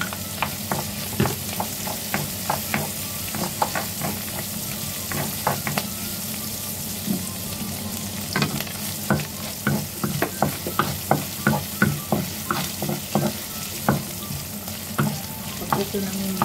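Ginger and garlic fry in a pan with steady sizzling and frequent scraping stirs of a utensil, close and continuous, with no talk.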